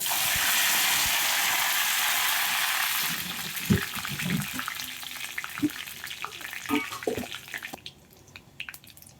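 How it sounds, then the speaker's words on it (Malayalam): Curry leaves drop into hot oil after mustard seeds have popped, with a loud burst of sizzling that gradually settles into softer crackling and spitting, with a few clinks of stirring. "കടുക് മുഴുവൻ പൊട്ടിക്കഴിഞ്ഞു ഇനി നമ്മൾ അതിലേക്ക് കറിവേപ്പില ഇടുന്നു"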